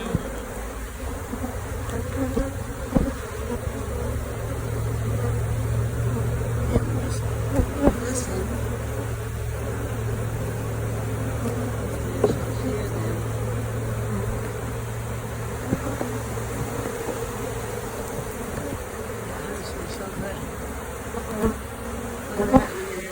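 Bees buzz steadily around a crowded hive box, a continuous low drone close to the listener with occasional individual insects passing nearer, and no talking.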